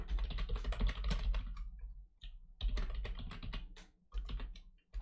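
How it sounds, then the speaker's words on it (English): Fingers type on a computer keyboard in quick, uneven bursts of clicky keystrokes, close and clear, with short pauses between flurries. "I can't type for shit on this fucking keyboard."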